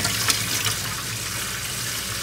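Dried beans being rinsed under a running kitchen tap into a sink, a steady close hiss of flowing water with light splashing throughout, before cooking in an Instant Pot for bean, ham and spinach soup.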